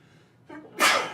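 A single sharp sneeze bursts out after a quick inhale, close and fairly loud.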